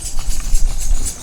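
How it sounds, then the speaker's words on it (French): Hooves of horses pulling a carriage clip-clop steadily on an island road where motor vehicles are banned, a brisk uneven rhythm of close, low thumps over a background hiss. "Il y a des chevaux qui traversent toutes les îles."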